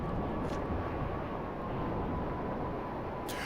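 Aircraft engines in GTA 5 Online: a steady, loud droning roar with a faint whine running throughout, continuous and without pause.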